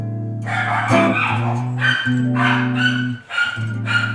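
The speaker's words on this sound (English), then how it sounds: "Sorry about the bark." A dog barks and yips several times in short, uneven bursts, close up, mixed with whiny, whimpering tones.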